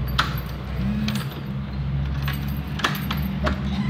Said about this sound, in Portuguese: E eu tô tentando abrir a porta aqui.